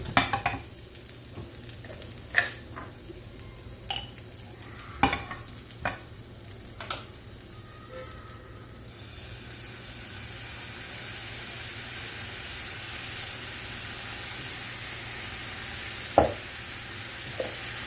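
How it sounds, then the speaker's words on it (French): Onion caramelizing with honey in a pan sizzles softly and steadily, punctuated by sharp spoon-and-pan clicks from stirring that fade as the hiss builds. "Donc je vais le caraméliser avec du miel."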